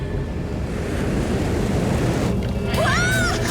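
A cartoon flood of water rushes in as a steady, loud, dense roar that fills the whole stretch, with a brief whistling squeal over it near the end.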